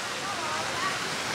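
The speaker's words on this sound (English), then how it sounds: "Nice little waterfall over there." Small waterfall at a resort pool, a steady, broad rush of splashing water heard close and continuous.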